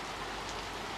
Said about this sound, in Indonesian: misalnya saat seperti ini hujan, kambing ini atau domba ini kok masih ada yang di luar